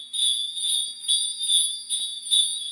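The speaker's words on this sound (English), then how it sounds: "Then number two bell size." Solid brass bell on a leather strap, number two size, rung in a steady shaking rhythm of bright, ringing peals, loud and close with no talking.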